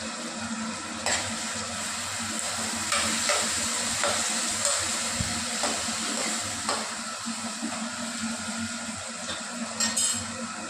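Black-eyed peas are tipped into a hot pan and stirred. A continuous sizzle runs underneath repeated scraping spoon strokes and light clatters, close by and with no talking.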